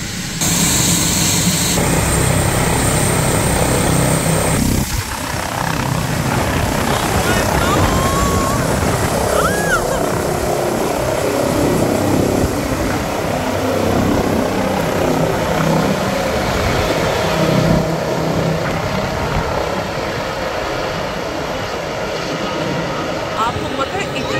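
An emergency helicopter beats and whines steadily nearby, a loud continuous rotor and engine roar that fills the whole stretch while people talk over it outdoors.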